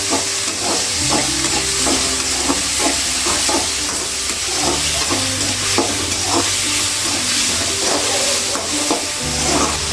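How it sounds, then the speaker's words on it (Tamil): Chopped ripe tomatoes sizzle steadily in a hot pan for spaghetti sauce, with repeated scraping and stirring strokes of a spoon and a low background hum throughout. "ஒரு தக்காளி நறுக்கி வச்ச தக்காளி போட்டுக்கிறோம்."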